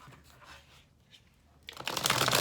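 Faint rustling gives way to a crisp, close shuffle of tarot cards, riffling quickly and getting louder at the end.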